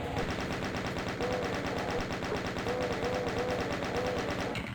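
Rapid chaingun fire from the DOOM video game, a steady, dense stream of shots lasting several seconds, loud and continuous, with other game sounds in the background.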